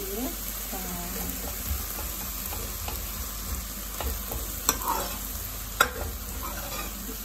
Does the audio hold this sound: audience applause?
no